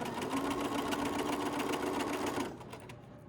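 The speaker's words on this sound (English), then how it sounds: "as you're sewing, just double check that all your fabric, as you're feeding it through, it should be lined up" A sewing machine stitches fabric along an elastic casing in a fast, even whir that runs steadily for about two seconds and then stops, close and fairly quiet.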